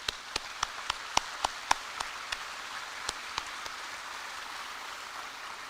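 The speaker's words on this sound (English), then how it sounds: "How about a big round of applause?" Sparse, uneven hand claps at a Hilo tribute evening for Senator Gil Kahele, a handful of distinct sharp claps at first that thin out and fade over several seconds, heard at a moderate distance with no talking.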